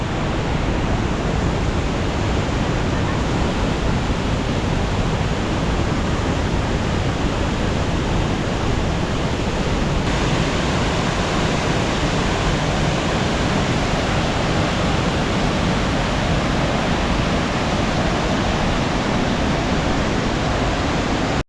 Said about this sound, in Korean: 이단 폭포에 왔습니다.